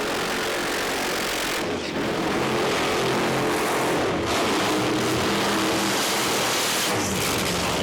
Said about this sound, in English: So burnout completed and they carefully back up in the hot sticky tyre tracks.